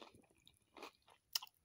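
Close, quiet chewing of crunchy pan-fried brown bread topped with egg yolk, a few soft bites and a sharper crunch near the end, with no talk.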